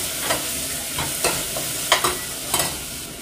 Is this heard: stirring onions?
yes